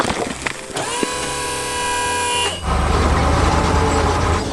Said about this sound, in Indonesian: truk biru melaju kencang membawa beban berat.